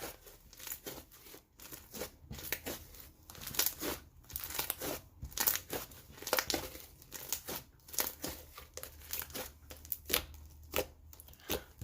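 Slime with a clay add-in and sprinkles being mixed by hand, giving continuous soft crinkling, squishing and crackling textures that rise and fall in irregular bursts, fairly quiet and close, with no talking.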